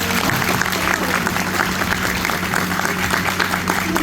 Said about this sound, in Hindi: एक्सीलेंट, सब लोग उसके लिए ताली मारें